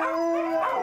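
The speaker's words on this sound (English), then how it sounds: "Oldest dog in my kennel." An old sled dog, sixteen years old and blind in one eye, lets out a short, close, sustained tonal howl that wavers slightly in pitch and carries on without any talking over it.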